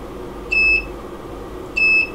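Two short electronic beeps from a buzzer on an ESP32 microcontroller project, evenly spaced about a second apart, clear and bright over a faint background hum.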